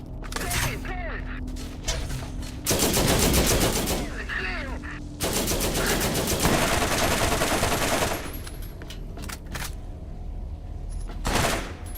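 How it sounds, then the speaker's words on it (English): Full-auto fire from a legendary gun in Borderlands: Game of the Year Edition, with long loud sustained bursts emptying the magazine, several separate volleys and brief pauses between them. A voice talks between the bursts. "Aiming down sights empties the entire mag."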